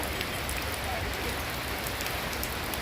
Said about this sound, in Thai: อยากไปเล่นน้ำฝนกับกั้นกล้วยนะคุณแม่